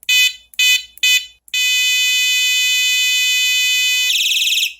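A loud, piercing 140 dB Night Provision Ziren electronic bike horn gives three short blasts, then one long sustained blare that ends with a warbling flutter.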